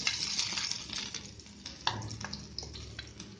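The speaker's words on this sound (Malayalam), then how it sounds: "എന്നിട്ട് ഇഞ്ചിയും വെളുത്തുള്ളിയും അതിലേക്ക് ഇടുന്നു." Ginger and garlic dropped into two spoons of hot oil in a wok-style pan crackle and sizzle close by, with a few sharp spits and stirring clinks and no talking.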